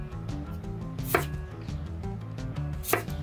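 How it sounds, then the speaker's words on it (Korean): A knife cuts cucumber into thin diagonal slices and strips on a board: a quick, even run of close, crisp chops, with two sharper hits, and no talking. "오이의 색이 진하지 않은 부분을 이렇게 비스듬히 얇게 자른 후 채 썰어줍니다."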